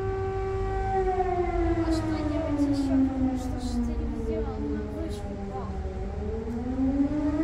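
A civil defense air raid siren in Kharkiv wails continuously, its tone slowly rising and falling over a steady low rumble, loud and sustained throughout.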